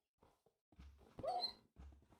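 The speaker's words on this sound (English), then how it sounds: "This stupid dog was in my way." Dog whimpering in the Minecraft video game: a few short, faint whiny yelps and cries in quick succession, close and alone with no talk.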